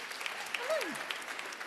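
A comedy show audience gives a quiet round of scattered applause, with a brief vocal sound gliding up and down over the clapping.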